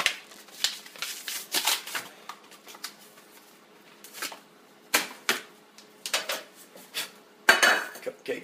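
A metal cupcake pan clatters as it is handled, with irregular clanks and light scrapes up close and quiet pauses between them.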